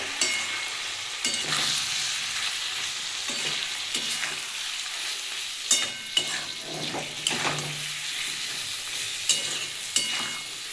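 Potatoes, flat beans and prawns with chilli powder, turmeric and salt sizzling in a pan while a spoon stirs and scrapes, steady frying hiss broken by regular clinks of metal on the pot, with no voice.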